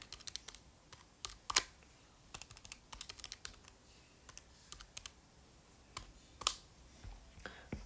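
Numbers are keyed into a calculator while compound interest is being worked out: sparse, quiet, irregular clicks of separate key presses with short pauses between bursts, heard alone without talk.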